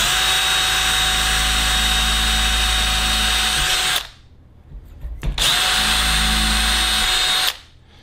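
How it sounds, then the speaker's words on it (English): A power drill whines loudly at steady speed for several seconds while slowly drilling holes in tarp toggles, stops, then runs again in a second long burst before cutting off. "Just be real slow with these drill holes."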